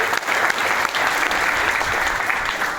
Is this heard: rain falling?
no